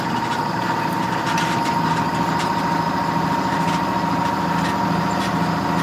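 A small tractor engine runs steadily and loud, a continuous idling rumble with no break and no voices.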